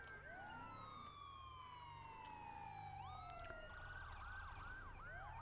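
Ambulance siren in GTA 5 wailing continuously and loudly, its pitch sweeping up and down in long glides, with overlapping siren tones from other emergency vehicles over a steady engine rumble.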